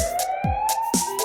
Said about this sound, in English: It's a siren, that's what it is.